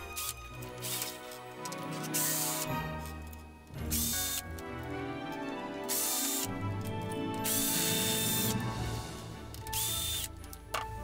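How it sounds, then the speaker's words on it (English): A screwdriver works Phillips screws out of a white plastic plate on an animated ice skaters village display, with close, continuous mechanical ratcheting, scraping and clicks and no talk. "These have Phillips screws, so go ahead and remove them."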